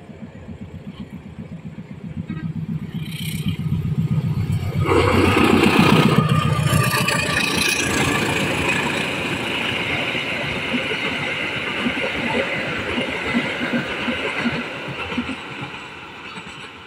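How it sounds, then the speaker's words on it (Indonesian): A heavy diesel locomotive engine rumbles nearby, swelling louder and holding a steady drone as the U73 Tanjung Balai–Medan train rolls past at Sungai Ular, Indonesia, with no voices. "Masih dengan kereta api U73 relasi Tanjung Balai Medan."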